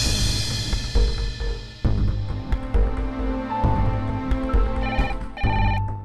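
A telephone ringtone plays repeatedly in an indoor home scene, its electronic melodic tones looping clearly over a low background with no speech.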